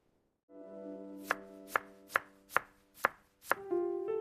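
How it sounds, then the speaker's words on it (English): Six crisp, evenly paced knife chops on a board as parsley is cut, close and clear, with a steady musical drone running underneath and no speech. "I am chopping the parsley."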